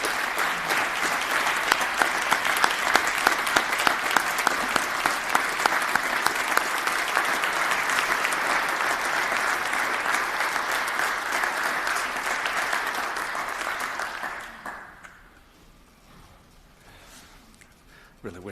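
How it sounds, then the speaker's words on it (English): Sustained loud applause from a large audience at a legislative tribute to a majority leader, steady clapping for about fourteen seconds before fading abruptly to near silence. "Give me a round of applause."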